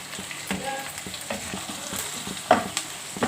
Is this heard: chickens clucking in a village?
no